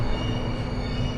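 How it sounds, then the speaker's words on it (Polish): A Dubai Marina monorail train running on its single rail, giving a steady, loud rolling rumble with a faint high whine that carries evenly through the whole moment. "Monorail, tak ta kolejka się nazywa"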